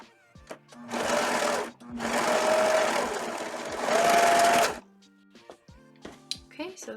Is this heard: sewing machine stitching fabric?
yes